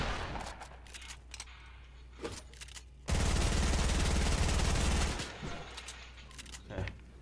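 Gunfire in the Fortnite video game: scattered single shots early, then a dense two-second burst of rapid automatic fire, followed by a few more isolated shots, all at moderate level.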